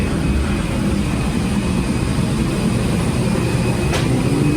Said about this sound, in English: It's really loud in this part of the jet bridge